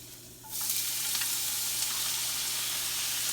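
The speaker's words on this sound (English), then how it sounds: "Now I'm gonna add my sauerkraut to the skillet here." Sauerkraut hits a hot skillet after a quiet half second, and a loud, close, steady sizzle follows and holds to the end, with no voices.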